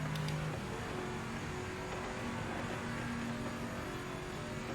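A race car laps the Bathurst circuit in the video game Project Motor Racing, running around Forest Elbow. A steady, moderately loud engine drone with a faint rising whine is heard throughout, with no talking.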